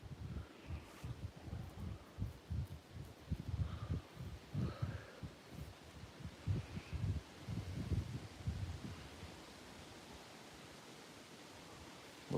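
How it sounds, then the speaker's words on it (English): Wind gusts through leaves outdoors on a warm evening at a deer-watching spot, with a steady, fluctuating rustle that rises and falls in uneven bursts and then quiets toward the end, with no voices. "It's pretty windy."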